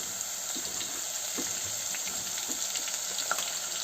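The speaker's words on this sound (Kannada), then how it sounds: "ಬೀನ್ಸು ಚೆನ್ನಾಗಿ ಫ್ರೈ ಆಗಿ" Carrots and beans frying in a pan, a soft continuous sizzle with faint scattered pops and clicks, no voices.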